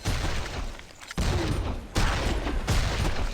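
Video game gunfire in bursts, several loud volleys of rapid shots separated by brief gaps, close and dense with booming low rumble.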